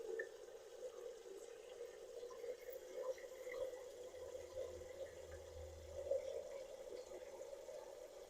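Hot water poured from a tea kettle into a dye pan, a faint, steady liquid stream with a low gurgle that runs unbroken for several seconds indoors.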